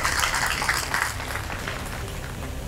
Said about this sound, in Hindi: सभी से अनुरोध है जोरदार तालियों से उनका स्वागत करें